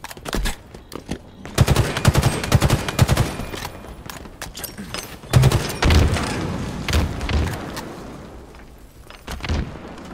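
Automatic weapon fire in a Halo Infinite ranked match, heard as repeated loud bursts with a few heavier booming hits. Brief in-game voice callouts sit faintly under the shooting.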